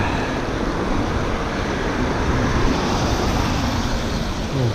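Steady, loud roar of fast-moving city traffic passing close by during a rainy spring morning bike ride in Toronto, a continuous wash of tire and engine noise with no pauses.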